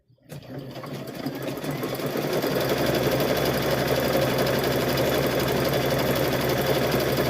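A sewing machine runs steadily and loudly, stitching handles onto a quilted Halloween gnome wizard tote bag, its motor whirring in a continuous hum after a brief start.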